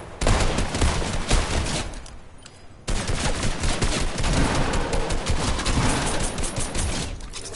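Dense video game gunfire from a boat-battle match, rapid overlapping shots filling the scene at high volume, with a brief lull around two seconds before the barrage resumes and continues steadily to the end.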